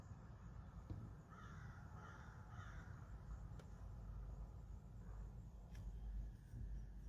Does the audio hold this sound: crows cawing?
yes